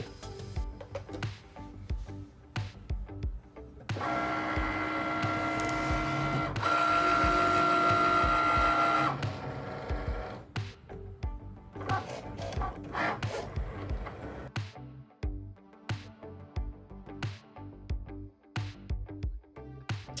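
A vinyl cutting machine works through a sheet of black faux leather, giving off a steady mechanical whir with a sustained motor tone in the middle, then clicks and taps as the carriage moves. It is close, with no talking.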